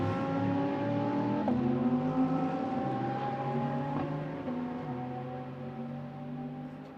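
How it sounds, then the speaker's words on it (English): A Lamborghini and a Ferrari GT race car at Spa roar past one after another. The engines scream loud and close, with gear-change steps in pitch, before fading into the distance. "And then the Lamborghini and the Ferrari sort of scream past."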